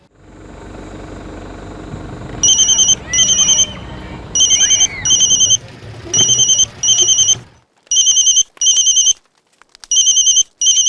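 A telephone rings in repeated double bursts of electronic trills, loud and close. A low rumbling hum fills the first part, then the rings continue alone over near silence.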